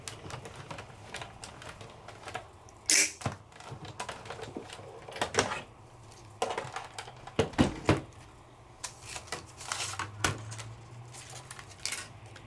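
Paper card with a do-not-cut plate cranked through a Sizzix die-cutting machine, giving a series of close clicks, clunks and clatters with a few sharper bangs, moderately loud and without speech.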